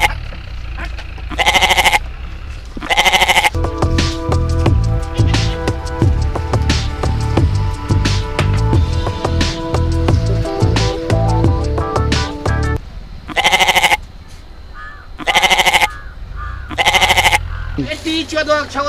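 Goats bleat loudly in bursts at the start and again near the end, with music playing through the middle, in a rural comedy skit.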